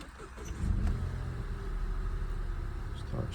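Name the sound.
Nissan Juke 2020+ engine starting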